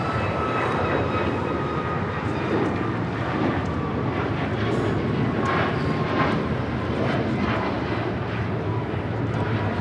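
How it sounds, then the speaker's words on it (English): Alaska Airlines Boeing 737 MAX 9 taking off from LAX, a steady, loud, broad jet engine roar that holds evenly throughout, heard from outside at the airport. "That is Alaska Airlines 1315 taking off to Portland on the MAX 9."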